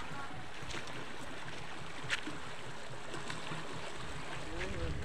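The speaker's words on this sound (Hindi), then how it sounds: "बहुत तगड़ा ही पानी है।" A flooded river rushes with a continuous, broad roar of water, steady and fairly loud, heard outdoors near a poultry farm.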